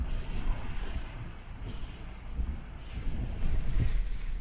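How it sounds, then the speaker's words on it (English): Wind gusts with heavy rain outside a camper van on Scotland's North Coast 500, as low buffeting rumbles swell and ease in uneven waves at a fairly quiet level, with no voices. "it is pissing it down still, and windy."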